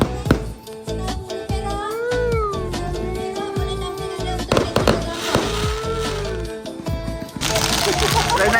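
Fireworks go off during a night-time festive gathering, with loud crackling bursts dominating the last second after meowing cats and nearby voices.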